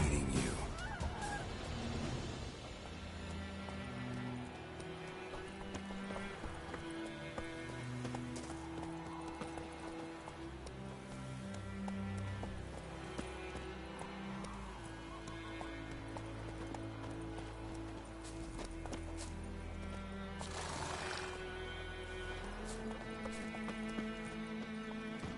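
Roach the horse clip-clops and whinnies in a video game, hooves drumming steadily over a sustained musical score, with a neigh rising out of the mix.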